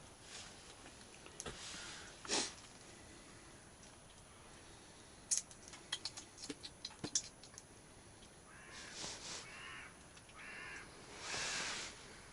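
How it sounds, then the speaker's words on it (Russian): Crows cawing at dawn in the taiga beside a lake camp, with a handful of scattered, fairly distant caws and a louder drawn-out cry near the end over a quiet background. "Первые петухи Каркают, просыпаются."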